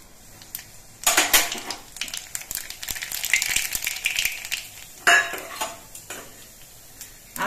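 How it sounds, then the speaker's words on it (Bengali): Black cumin seeds dropped into hot mustard oil for a mustard hilsa dish, giving sudden bursts of crackling sizzle around the first and fifth seconds over a quieter kitchen hiss with light clinks of utensils. "সর্ষের তেলটা গরম হয়ে গেছে, এবার এর মধ্যে আমি অল্প করে কালো জিরে দিচ্ছি"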